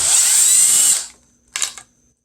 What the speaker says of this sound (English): we have 1 and 2 T30 screws.